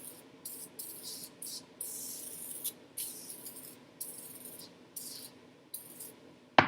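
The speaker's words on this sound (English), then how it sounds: "So I take the can and spray it." Oven cleaner sprayed from an aerosol can onto cast iron cookware, in a series of about eight short hissing bursts with brief pauses between them, close and fairly quiet.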